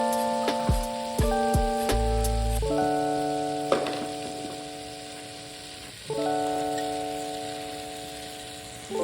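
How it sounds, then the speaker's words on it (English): Butter melting in a pan, giving a steady close sizzle with a crackly texture and a few small clicks. Sustained musical tones sound alongside it and there is no talking. "Now I'm going to let my butter melt"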